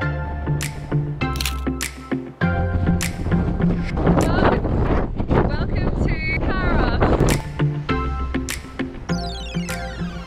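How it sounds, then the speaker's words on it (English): Strong wind on a hilltop on Paros, Greece, buffets the microphone in continuous gusty rumbles, with a voice speaking over it near the start and end. "Up here, it is super windy"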